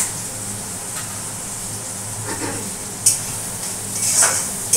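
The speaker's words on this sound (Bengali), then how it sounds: "এবার পেঁয়াজটা পুরো ব্রাউন করে ভাজবো ভালো করে" Onions sizzling in a hot pan with salt, turmeric and a little sugar, a steady frying hiss broken by a few scraping stirs and light clinks of a spoon against the pan.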